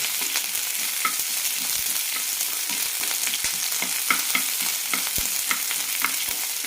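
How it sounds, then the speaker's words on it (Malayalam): Onion and curry leaves sautéing in a pan for a banana stem chutney: a steady, close sizzle with frequent clicks and scrapes of stirring throughout, no talking. "ഇനി ഇതിലേക്ക് സവാള, കുറച്ച് കറിവേപ്പില, നന്നായി വഴറ്റിയെടുക്കാം."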